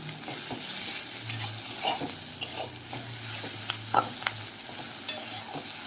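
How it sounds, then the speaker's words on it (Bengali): Eggplant pieces frying in oil for nim begun, a continuous close sizzle broken by intermittent sharp scrapes and taps of a spatula turning them in the pan. "বেগুনের গায়ে যতটুকু জল ছিল সেই জলটা শুকিয়ে নেওয়া পর্যন্ত ভেজে নিতে হবে"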